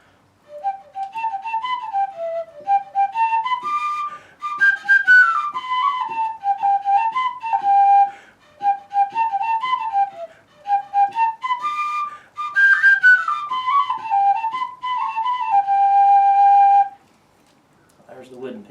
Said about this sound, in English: this wooden penny whistle is a lot more mellow than the tinny sound of the tin whistle